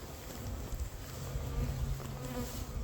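Honeybees buzz steadily around an open hive box while frames are being inspected, a dense, continuous droning hum close to the microphone with no talk.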